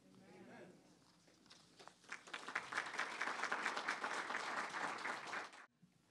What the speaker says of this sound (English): Let's give Pastor Wilson another round of applause for those encouraging words